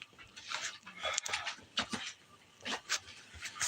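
Several dogs whimper and whine in a home setting, soft high whines recurring in short bursts with faint panting and rustling between them, fairly close.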